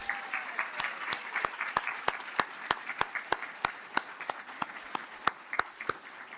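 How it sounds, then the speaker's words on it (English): Audience at a National Teacher of the Year address at an early career teaching institute gives a round of applause, with sparse, distinct individual claps ringing out steadily at moderate volume with little talk. "One more round of applause, please, for Missy Testerman"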